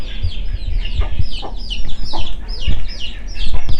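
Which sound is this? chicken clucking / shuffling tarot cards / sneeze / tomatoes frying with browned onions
chicken clucking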